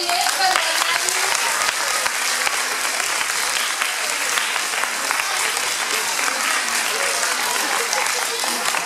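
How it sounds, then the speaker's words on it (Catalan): Sustained applause from an audience at a school poetry-prize ceremony for a third-place winner, a dense, steady clatter of many hands, loud and even throughout with faint crowd murmur beneath. "Un aplaudiment per la Madeline."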